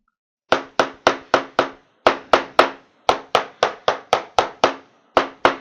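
A shoe's back seam being hammered to attach it, delivering crisp, close, loud taps in quick bursts of four to six strikes with short pauses between groups.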